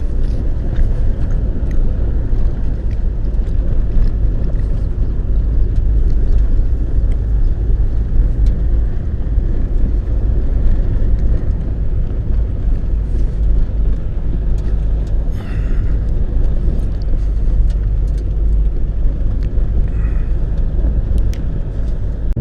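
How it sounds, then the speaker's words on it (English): A heavily loaded car carrying a load of dirt climbs hills near Nelson, Nevada, its engine droning in a steady, loud low rumble throughout with no voices. "not climbing the hills as fast as I was coming with all this dirt I've got in the car"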